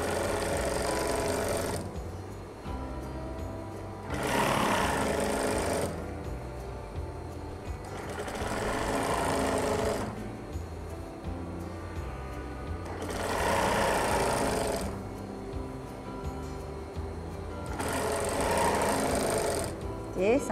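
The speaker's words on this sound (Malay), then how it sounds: "Bila nak jahit kasar dekat tengah ni, mesti menggunakan jahitan yang kasar." A sewing machine runs a coarse basting stitch along the back waistband elastic of a tiered skirt, buzzing in repeated bursts of a few seconds separated by brief pauses, close and steady, with a voice talking over it.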